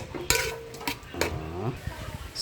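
A spoon scrapes and clinks against a pot while goat meat stew with green peas is stirred, making scattered metallic taps and knocks at close range, with a brief voice sound partway through.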